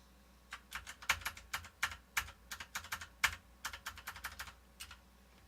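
Keys clack on a computer keyboard in quick irregular bursts of taps, close and fairly quiet, with no talking over them.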